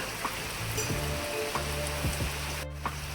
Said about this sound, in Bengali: এলাম প্রচুর বৃষ্টি মাঠে থাকা যাচ্ছে না